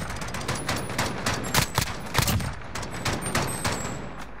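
Dense bursts of automatic gunfire in a multiplayer shooting video game, rapid volleys crackling close and loud with brief lulls, no voices.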